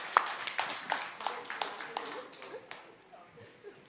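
Audience applause at an awards ceremony for a women's policy competition, a sparse patter of individual claps near and fading, with a voice speaking over it.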